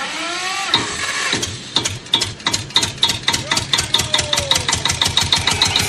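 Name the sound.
generator being started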